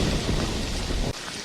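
A rainstorm from a Jurassic Park movie scene: a loud, dense roar of heavy rain and rumbling thunder fills the air, then cuts off abruptly near the end.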